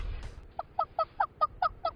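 A person imitates a hen's call with seven short, evenly spaced clucking bursts, close and fairly loud, after a brief rustle at the start.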